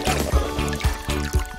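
Liquid stirred in a toy jelly cooking set, with wet squishing and dribbling in a steady rhythm of about two strokes per second, close and fairly loud.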